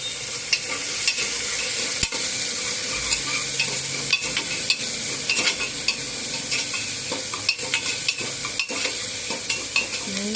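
Onion and tomato fry in a little oil for a masoor dal curry, sizzling loudly and steadily up close, while a spoon stirs and scrapes the pan in frequent sharp clicks.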